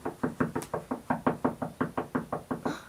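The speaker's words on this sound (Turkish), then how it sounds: "Kapı çalıyor." A steady run of about fifteen even knocks on a door, brisk and regular, moderately loud with no voices.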